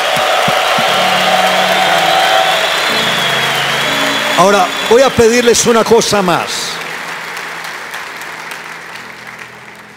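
Loud audience applause and cheering fill a large church convention hall of men, steady and dense throughout, with a preacher's voice talking over the crowd midway.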